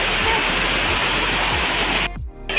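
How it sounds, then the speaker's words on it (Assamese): Heavy rain pours steadily outdoors during a morning cycling outing in Assam, a dense continuous hiss that drops away abruptly near the end. "এইজাক বৰষুণ চাওক"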